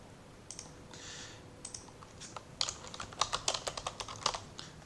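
Keys clack on a computer keyboard as text is typed into a word processor, with scattered taps early that build into a quicker run of close, crisp clicks.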